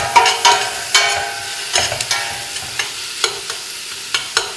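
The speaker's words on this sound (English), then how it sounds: "we'll let the onions fry for a little while" Onions fry for masala chicken curry with a steady sizzle while a spoon periodically scrapes and stirs the pan, producing sharp clattering bursts at irregular intervals.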